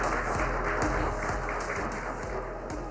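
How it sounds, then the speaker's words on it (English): A conference audience at the India Today Education Conclave 2023 applauds a government education secretary. The applause is continuous, dense and somewhat distant, with faint individual claps and no talking. "Can we have a round of applause, please, for Mr."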